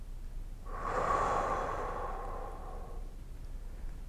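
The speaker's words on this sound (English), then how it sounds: "take a breath in" A person takes one slow, deep breath in during relaxation, a soft, airy inhale lasting about two seconds, close and alone with no talking.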